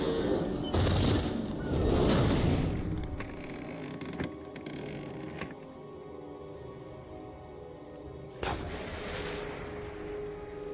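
Artillery bombardment in Guild Wars Reforged, with two heavy booming impacts near the start followed by scattered thuds and crackles over a rumbling, rain-like bed of noise, and one more sharp blast near the end.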